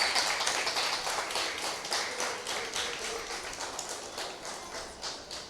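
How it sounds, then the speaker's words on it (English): Sustained applause from a Sunday school audience of children, teachers and parents, a dense steady clatter of many hands clapping throughout with no talk over it. "Children, can you give a big applause to your teacher and parents?"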